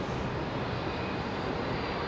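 An Airbus A350-900 airliner departing Brisbane for Auckland, heard as a steady, even roar of jet engines with no speech, constant and moderately distant throughout.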